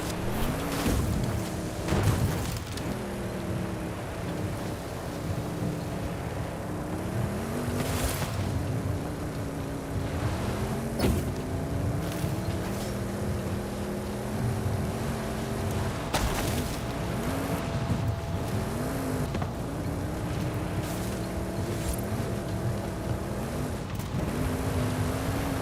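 Lamborghini Murcielago engine in a racing video game, a steady droning roar with rising and falling pitch as it revs and shifts through gears, loud and continuous throughout a head-to-head race.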